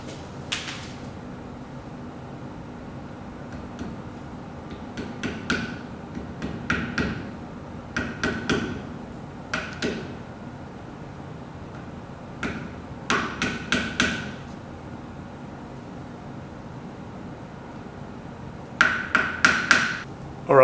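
Rear engine seal being tapped into its bore with a hammer in a workshop: scattered bursts of sharp knocks, a few at a time, with quiet gaps between them and a final cluster near the end.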